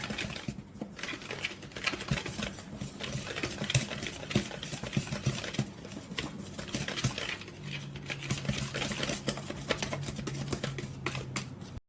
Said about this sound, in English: we're going to just whisk this all together